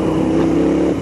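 A Royal Enfield Interceptor 650 motorcycle holds a steady drone in fourth gear at low revs, loud and close, with an even throbbing engine tone.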